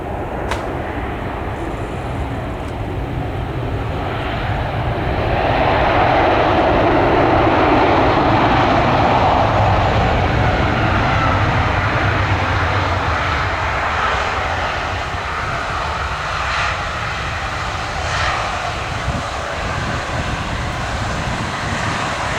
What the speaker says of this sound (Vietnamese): chúng ta sẽ tới với Airbus A350-900 của hãng hàng không Singapore Airlines